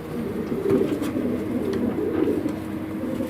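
Domestic pigeons cooing inside a loft, a soft, continuous low warble of several birds close by with no talking.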